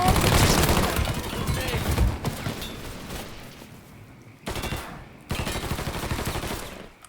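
Sustained machine-gun fire in the crime action game Mafia III, heavy bursts continuing for seconds, fading, then returning in two more bursts, with shouting voices in the mix.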